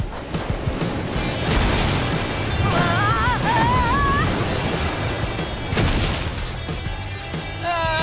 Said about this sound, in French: Cascade droit devant!